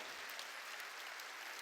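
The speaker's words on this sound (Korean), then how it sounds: "박수로 하나님께 영광을 돌려야죠" A church congregation at a Korean Wednesday worship service claps together, a faint, steady patter of many hands heard from a distance with no voices over it.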